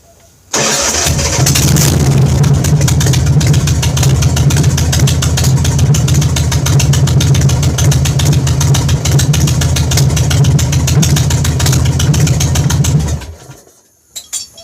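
Engines with compression release valves started in a garage at 13 degrees: a loud, steady, close-up engine roar kicks in almost at once and runs unbroken for about thirteen seconds before cutting off abruptly.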